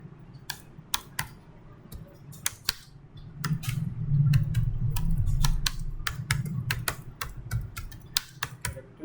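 Typing on a computer keyboard: scattered, crisp key clicks come in short bursts, close and clear, over a low background hum that swells in the middle, with no talking.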